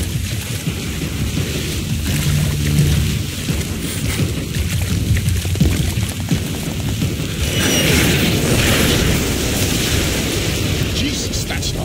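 Katyusha rocket explosions in Splinter Cell Blacklist, deep distant booms and rolling rumbles over rain-like noise, with a second heavy blast swelling near the end.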